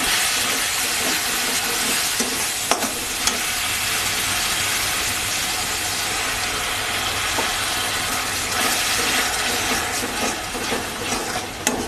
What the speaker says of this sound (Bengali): এবার চিকেন স্টক থেকে একটু টক দিয়ে দিচ্ছি।